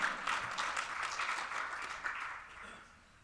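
Audience applause at a Sunday weekend satsang gathering, a lively patter of many hands that swells early and then gradually tapers off toward the end.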